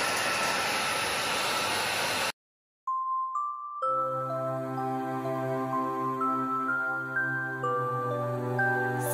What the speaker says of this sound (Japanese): このペット用ドライヤーハウスドライブプラスに出会えて本当に良かったです